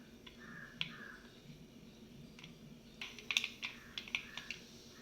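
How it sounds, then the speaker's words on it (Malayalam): Mustard seeds splutter in hot oil in a pan while a king fish curry is being cooked. A few faint, scattered pops come first, then a quick cluster of sharp crackles toward the end. "അപ്പോൾ കടുക് പൊട്ടി തുടങ്ങിയിട്ടുണ്ട്."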